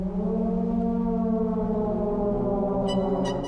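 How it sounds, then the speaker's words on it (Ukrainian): A steady, droning air raid siren wail holds throughout an avant-garde piece for small orchestra, recorded in concert in Lviv, layered over low sustained tones, with brief bright metallic accents near the end. "авангардний твір для малого складу оркестру, де звучать навіть сирени повітряної тривоги"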